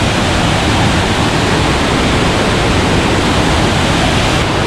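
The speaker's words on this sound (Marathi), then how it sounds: "किती फ्लोमध्ये आहे बघा पाणी" Strong, steady roar of heavily flowing water at a waterfall, loud and continuous throughout with no voices, a dense broadband rush close to the listener.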